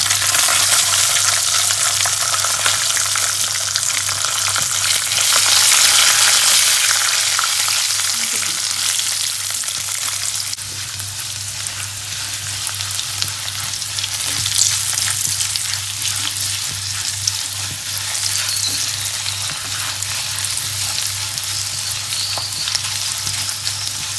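Whole garlic cloves sizzle in hot oil along with green chillies and curry leaves, making a loud, dense, continuous crackling fry close by, with slight swells and dips as the pan is stirred.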